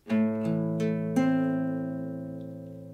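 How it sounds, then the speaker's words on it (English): Plucked acoustic guitar notes ring out clearly, a few picked tones layered into a sustained chord that slowly fades, with no talking. "So when I'm playing this fingerstyle guitar technique"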